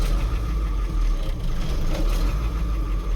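A 1974 Dodge V8 diesel semi truck idles very low, a deep, loping rumble with an uneven pulsing beat, close and steady.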